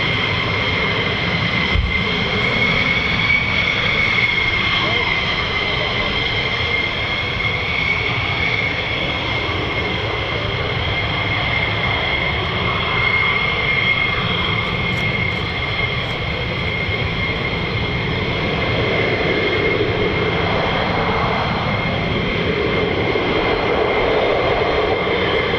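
USAF 48th Fighter Wing military jet, an F-15E Strike Eagle or F-35A, at RAF Lakenheath: a loud, steady engine roar with a whining tone that holds throughout without letting up.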